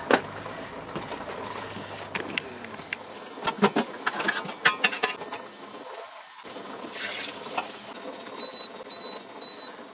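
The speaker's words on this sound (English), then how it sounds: "my timer just went off" A kitchen timer beeps three times in short bursts near the end, loud and clear, following quieter kitchen clatter and faint bubbling while chicken is canning.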